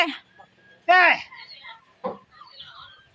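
A domestic chicken clucks in a few short bursts, with one louder, harsher call in the middle, close by, while people talk nearby.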